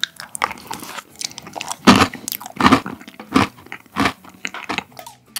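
Close, crisp chewing and crunching of a chestnut tiramisu made from convenience-store ingredients, eaten for an eating show, with repeated bites at an irregular pace and moist squishy mouth sounds between them.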